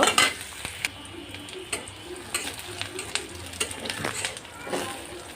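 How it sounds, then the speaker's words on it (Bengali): Garlic, onion and green chilies frying in a pan, stirred with a utensil: soft sizzling under repeated scraping and clinking strokes, fairly quiet and close. "দিয়ে দিয়েছি পেঁয়াজ আর কাঁচামরিচ দিয়ে এখন হালকা একটু নেড়ে চেড়ে নিব"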